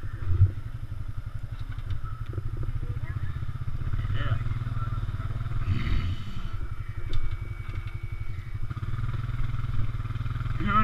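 Honda Rancher 420 ATV pulling an Arctic Cat 550i Cruiser ATV out of a stuck spot: a steady, rumbling engine chug throughout, with people talking over it now and then.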